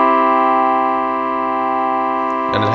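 An H-Pi Instruments Tonal Plexus keyboard holds a major chord in traditional keyboard tuning, a steady, loud, rich tone that sustains evenly before an abrupt change at the end.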